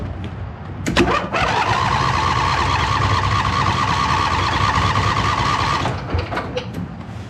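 A John Deere Z425 zero-turn mower engine cranks over with a steady whirring churn that lasts about five seconds, close and loud, framed by a few clicks and clunks before and after.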